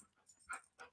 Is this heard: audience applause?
no